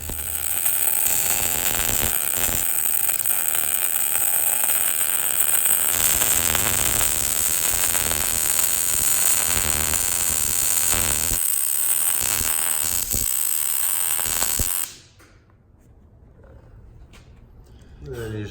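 Welding on a roll cage A-pillar brings a loud, steady crackling hiss that runs with a few brief breaks, then cuts off abruptly, leaving near quiet.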